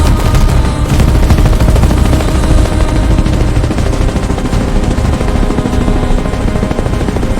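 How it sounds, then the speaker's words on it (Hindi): Dense, continuous gunfire blasts loud and close, a sustained roar of rapid machine-gun bursts with no gaps, as in a 2015 Yemen war rescue scene. "पीछे से फिर गोलियों की आवाज।"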